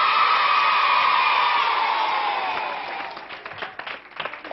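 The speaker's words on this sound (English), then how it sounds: "Give a nice big cheer for Kim Wilde." A studio audience on the Razzmatazz TV show cheers and applauds for Kim Wilde in a dense, loud wash that gradually fades into scattered individual claps.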